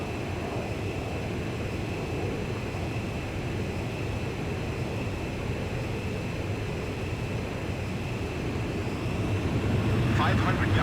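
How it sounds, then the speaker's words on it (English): Fighter jet engines in Ace Combat 5 drone steadily as the aircraft closes on a refueling craft, a loud continuous roar that rises slightly near the end. "Pilots, check your plane and prepare for refueling."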